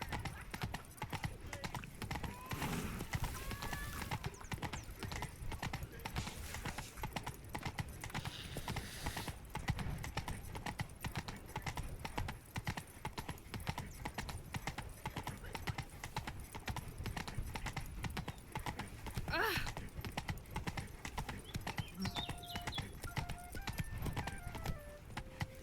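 Roach, the Witcher's horse in The Witcher 3, walks with steady clip-clopping hooves throughout, a continuous rhythmic clatter over ambient game sound, with a brief whinny-like sound and faint voice-like bits in the mix.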